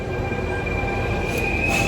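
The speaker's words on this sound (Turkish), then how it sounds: "trenim geldi bu arada" A train rumbles steadily with a high metallic whine ringing above it, growing slightly louder toward the end as it draws into a station in Rome.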